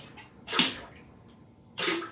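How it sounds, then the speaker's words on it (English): Folk art white glaze is flung in two quick wet splashes onto a ceramic piece, each a short liquid slap separated by a quiet gap with faint background noise. "randomly just splashing some glaze on your piece"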